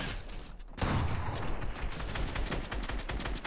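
Fortnite gunfire during a match, a sudden burst of rapid repeated shots and crackling impacts that continues densely after a brief quiet start.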